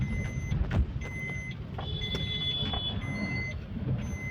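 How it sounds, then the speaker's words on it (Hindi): The seat belt warning in a Maruti Suzuki Baleno with a steering fault chimes in a repeating series of thin electronic beeps over the low hum of the car's cabin. "सीट बेल्ट का आवाज़ आ रहा है"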